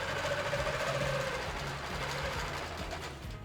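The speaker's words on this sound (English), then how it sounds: "and I'm going to start to sew." A sewing machine fitted with a ruler foot stitches steadily and close by, a continuous mechanical whir with a faint rhythmic chatter and no talking.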